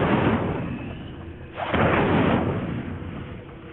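Incendio fire spell cast in the Hogwarts Legacy video game: a loud, roaring broadband blast that dips briefly and then surges again, fading slowly at the end.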